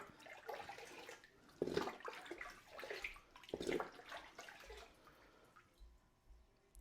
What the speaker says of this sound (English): I give it a few good dunks in the water, and then all I do is I wrap it up airtight